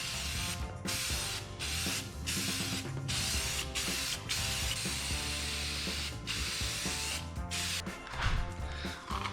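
Rust-Oleum metallic gold spray paint hisses from an aerosol can indoors in steady bursts, with short gaps between passes and faint mechanical clicking, close and fairly loud.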